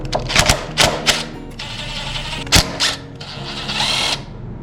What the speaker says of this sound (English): you're going to need to take these two Allen head bolts out right here